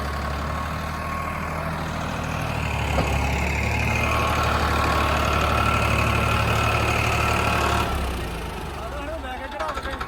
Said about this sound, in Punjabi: farm truck 60